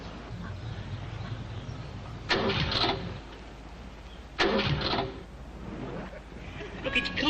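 A cold old car from 1967 cranking and trying to start, with two or three bursts of engine noise separated by pauses, under people talking nearby.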